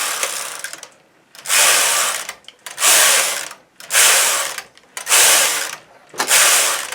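A domestic knitting machine carriage is pushed back and forth across a full bed of needles for six rows of a hem, each pass a loud, close mechanical rasping whir with short gaps between strokes.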